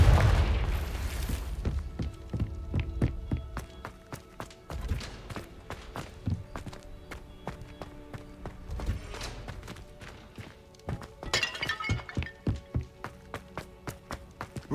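A Confringo blasting curse goes off in Hogwarts Legacy with a deep explosive boom at the start. Fainter thuds, footsteps and rapid tapping impacts follow, with further low booms near five and nine seconds.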